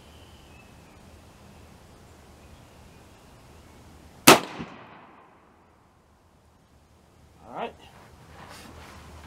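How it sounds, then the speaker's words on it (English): A single sharp rifle report from a shot loaded with Golden black powder substitute, one loud crack with a short decaying tail, followed by a fainter thud a few seconds later. "First shot. Hopefully this rifle doesn't blow up."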